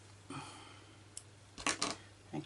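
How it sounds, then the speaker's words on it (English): Scissors snip through fabric during crazy patchwork sewing, giving a few short, quiet cuts in close succession near the end of an otherwise hushed moment. "Scissors."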